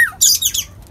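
A black-capped lory parrot gives harsh, bright squawks in a rapid burst of several cries. They are close and loud over a faint low background.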